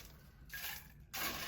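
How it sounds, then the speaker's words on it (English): Fresh pebble ice tumbles into a cocktail glass during holiday cocktail mixing, two short bursts of crunchy, clattering rattle, close and fairly quiet, with no talking. "Add some fresh ice to our glass."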